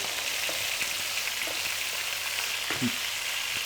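A steady, crackling sizzle of onion frying in hot oil while making Hutsul cabbage rolls, with faint pops and clicks scattered through the continuous hiss.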